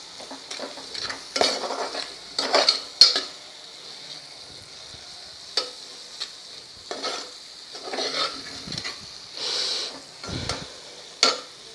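A spoon scrapes and stirs spice masala for stuffed brinjal in a pan, intermittent clinking strokes over a faint sizzle, close and fairly quiet.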